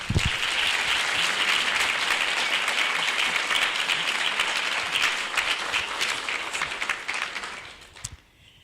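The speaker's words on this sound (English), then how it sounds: "Please join me again in a round of applause to welcome all of them this evening" Sustained applause fills a Hall of Fame dinner and induction ceremony, dense and steady for about seven seconds before tapering off, with a few final claps trailing into quiet.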